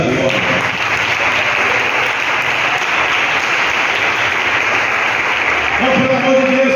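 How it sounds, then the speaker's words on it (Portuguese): A church congregation claps continuously and loudly, a thick wash of many hands with voices underneath and a sustained tone entering near the end. "eu gostaria só que você aplaudisse ao Rei da Glória"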